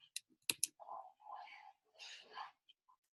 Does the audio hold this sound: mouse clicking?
yes